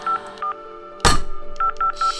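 Cell phone keypad dialing tones, several short beeps with one loud burst partway through, heard close with no voices.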